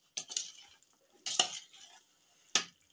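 Chana chaat being mixed with tamarind pulp, three distinct scraping, clinking strokes of a spoon against the bowl, close and fairly quiet, with soft wet shuffling between them.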